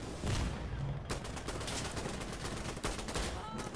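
Gunfire in Insurgency: Sandstorm: sustained, rapid automatic bursts, loud and close, broken by a couple of brief gaps and carrying on to the end.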